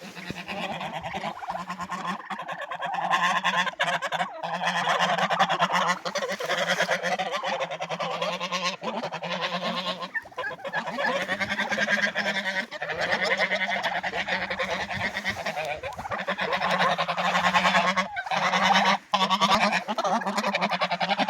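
Geese honking continuously, a busy flock of ganders and grey geese nearby with overlapping nasal calls and no gaps, loud and close.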